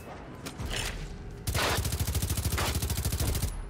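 Rapid automatic gunfire in the shooter Generation Zero: after some scattered shots, a loud continuous burst of evenly spaced rounds runs for about two seconds.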